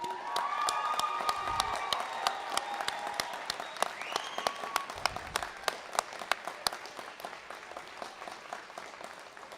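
An audience at a Coconino Community College commencement ceremony in 2016 applauds in a large hall, dense sustained clapping with some sharp individual claps standing out, fading slightly toward the end.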